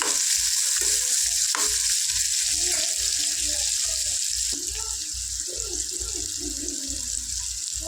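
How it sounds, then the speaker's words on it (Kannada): Onions frying in a pan give a steady, close sizzle with occasional stirring scrapes, and a broad hiss that persists throughout. "ಈರುಳ್ಳಿ ಕೂಡ ಚೆನ್ನಾಗಿ ಫ್ರೈ ಆಗಬೇಕು"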